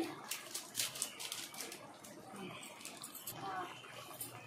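Water splashes into a pot of rice for mutton biryani, a soft, close, continuous pour with small burbling splashes at low volume.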